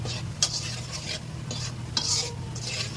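Whole wheat flour is fried and stirred in a pan for a white sauce: a quiet, steady sizzle under rhythmic scraping spoon strokes about every half second.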